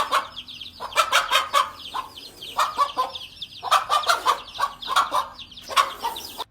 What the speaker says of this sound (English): the mother chicken did a pretty good job of directing her children to safety